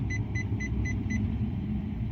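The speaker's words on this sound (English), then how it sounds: "that beep" A Nissan Maxima's driver-assist system sounds a warning of five evenly spaced, short electronic beeps over the low, steady rumble of the car moving on the road.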